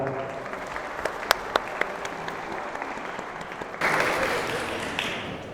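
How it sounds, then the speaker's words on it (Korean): Applause fills a wedding ceremony hall in Cheonan just before a song is sung for the couple, a crowd clapping steadily with scattered sharp claps, then swelling louder and brighter toward the end. "큰 박수로 맞아주시길 바랍니다."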